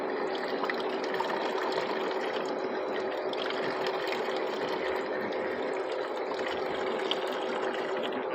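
Water runs steadily from a filtered cooler at a factory, a continuous hissing gush with no breaks, moderately loud and close.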